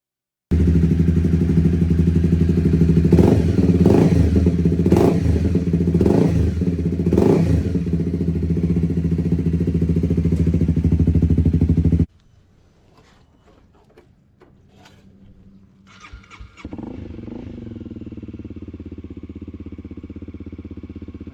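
A Honda CRF250L motorcycle fitted with a swapped-in CBR300R engine runs loudly and steadily with several throttle blips, then cuts to a quieter, more distant engine sound with some clatter and light handling noises.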